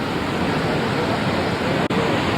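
Waterfall at Paronella Park, heard from the top of the falls: a steady, dense roar of rushing water fills the whole clip with an unbroken wash, interrupted only by one brief dropout near the end.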